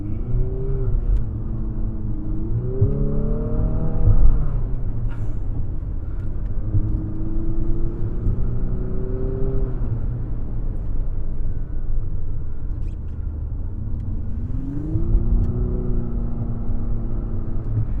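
A 2022 Infiniti QX55 SUV engine rumbles and revs steadily in sport mode, rising in pitch in several long surges as it accelerates hard, close and fairly loud, with no talking.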